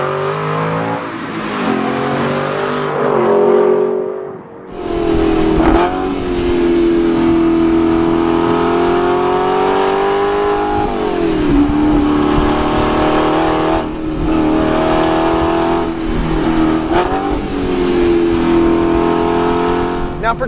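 Aston Martin V8 Vantage S Roadster engine revving loudly, a deep V8 roar that surges and settles through several throttle blips, briefly cutting out before roaring back and holding a strong, rumbling tone with rising and falling pitch.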